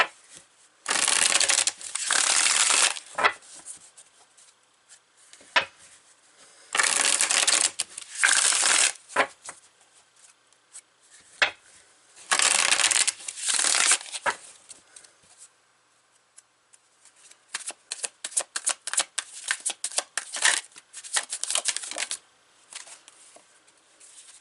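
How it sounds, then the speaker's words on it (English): Tarot cards being shuffled by hand in repeated close, crisp riffling bursts, several separated by short pauses, ending in a quicker series of flicks and taps as cards are handled. "Let's pull some cards."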